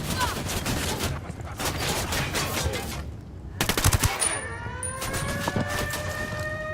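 Automatic gunfire in Ghost Recon Wildlands: loud rapid bursts crackle in repeated volleys, with a sharp flurry near the middle. Rising, siren-like whining tones then sweep in beneath the shots.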